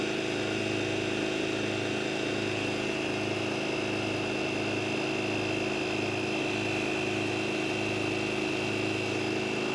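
A VEVOR portable air compressor inflating a car wheel runs steadily close by, with a continuous motor hum, a high whine and a rapid rhythmic pulsing underneath, no talking.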